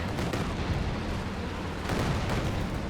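Mortar fire in the World War II strategy game Company of Heroes 2 booms amid a dense, continuous wash of battlefield explosions and gunfire, loud and rumbling throughout with a heavier burst toward the end.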